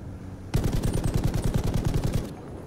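A single sustained burst of machine gun fire in Battlefield V lasts nearly two seconds, its rapid evenly spaced shots loud and close, with no talk.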